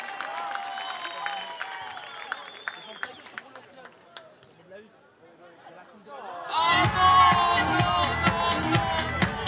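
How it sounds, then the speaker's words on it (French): An arena crowd at a Brazil versus Italy match breaks into loud applause, cheers and whoops for the Italian team, swelling suddenly after a quieter stretch of mixed crowd noise and a voice over the loudspeaker. "Applaudissez-les!"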